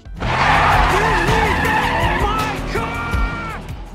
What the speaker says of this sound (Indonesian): Ray pun langsung tancap gas meninggalkan Laru